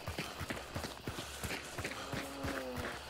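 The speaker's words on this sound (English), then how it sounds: "The horse is here." Horse hooves clip-clop in a video game, a steady run of fairly close, even hoofbeats over a continuous background bed, with a faint tonal sound late in the passage.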